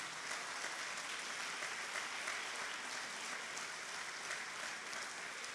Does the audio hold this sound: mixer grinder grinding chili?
no